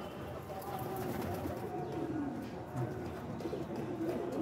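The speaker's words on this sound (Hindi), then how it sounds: "ये देखिए एक ये और कबूतर" High-flyer pigeons coo softly amid a busy outdoor background, with low murmuring calls and distant chatter throughout.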